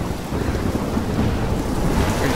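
A steady, loud downpour fills the Life is Strange storm, with low thunder rumbling continuously beneath the rain's dense hiss.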